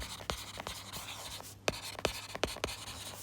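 Pen or marker strokes on a writing surface during an accounting lesson, soft close scratches with a few sharper taps in an irregular rhythm.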